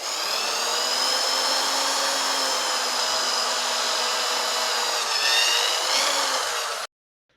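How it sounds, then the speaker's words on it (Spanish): A power drill bores a hole for mounting a multiband antenna dipole, whining loudly and steadily for about seven seconds with a brief change in pitch near the end before cutting off abruptly into silence. "ahí tengo mi marca donde voy a hacer un primer agujero"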